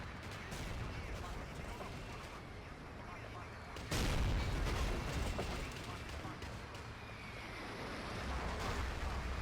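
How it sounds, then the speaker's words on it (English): An artillery strike lands in a Battlefield 2 match, heavy booming blasts and rumbling impacts erupting abruptly over a continuous noisy battle backdrop, with speech mixed in. "Oh, artillery comes in"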